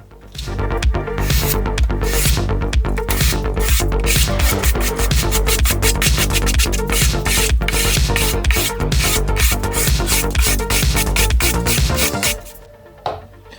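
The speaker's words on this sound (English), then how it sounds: "I'm going to come back and add more of those scratches and texture to this top" Rapid, rhythmic scraping and rasping strokes across a painted wooden table top being scratched and textured, loud and close, continuing steadily for about twelve seconds before stopping.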